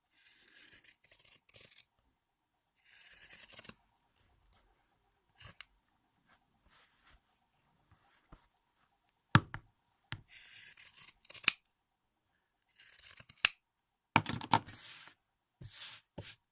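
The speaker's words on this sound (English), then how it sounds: "I cut as close as I can to the edge here" Cheap IKEA scissors cutting purse fabric close to the edge, heard as close, crisp snipping in short bursts of rapid strokes separated by quiet pauses.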